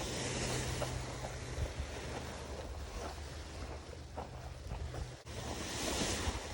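Gusty outdoor wind buffets the microphone in steady broadband roaring, swelling and easing with a brief dip near the end, at a paramotor flying field while a paraglider wing is hand-kited.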